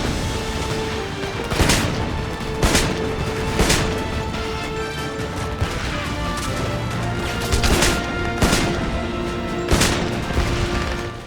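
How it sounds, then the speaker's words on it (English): Gunfire and explosions from the video game Homefront: a dense battle ambience punctuated by sharp, loud blasts and cracks at irregular intervals of one to two seconds, with no talking. "I think the sounds of the weapons and explosions are different enough from other games that I would say they're at least good"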